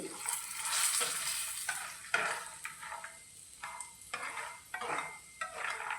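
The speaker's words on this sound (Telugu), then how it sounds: "పావు చెంచా కారం వేసుకోవాలి ఇదంతా కూడా ఒకసారి కలుపుకోవాలి" A spoon stirs peanuts in a pan with salt, turmeric and chilli powder, giving repeated rough scraping sweeps over a light sizzle, close and loud with no voices.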